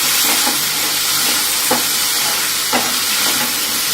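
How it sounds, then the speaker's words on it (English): Potato curry sautéing in a pan with turmeric and sugar, giving a loud, steady close-up sizzle and hiss with a few soft stirring scrapes every second or so, no voices. "Continue sauteing"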